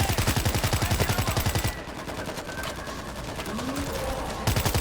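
Rapid automatic gunfire in the zombie shooter World War Z Aftermath, loud rhythmic bursts that stop, give way to a quieter stretch of game noise, then resume at the end.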